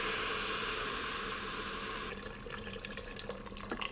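Water pours into a pot of rice for Greek-style rice, a loud, steady splashing stream that tapers off after about two seconds into softer trickles and drips, with no voices.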